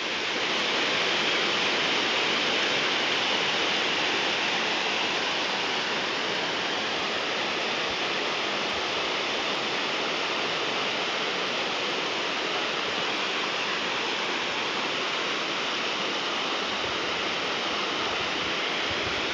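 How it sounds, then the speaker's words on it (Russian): The waterfall of Lake Glubokoye pours as a rapid stream of water, a steady, dense rushing roar that holds unbroken and loud throughout, with no voices. "И этот стремительный поток несет свои воды вниз, в сторону реки Глубокое."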